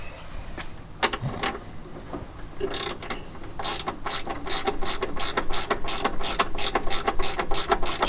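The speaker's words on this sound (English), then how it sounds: "using a ratchet spanner for this. Make it quick. Nice and tight there." A ratchet spanner clicks rapidly as it tightens 10mm bolts on a classic Fiat 500 engine, a few scattered clicks at first, then a steady run of close, crisp ratcheting strokes.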